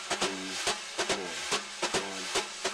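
Drum brushes swirl in circles across a snare head, making a continuous close swish with regular accented sweeps and taps that keep a steady four-beat pulse.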